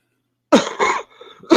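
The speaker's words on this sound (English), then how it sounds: "Cough, yeah, cough." Three close, abrupt coughs arrive after a short silence: two quick bursts, a brief raspy tail, then a final sharp cough.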